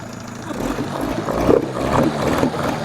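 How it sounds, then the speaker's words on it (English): Two-stroke outboard engine idling on a Stryker LX380 inflatable boat, a steady low, rough running drone with slight surges in level, close by, with no talk over it. "seems to be idling good now"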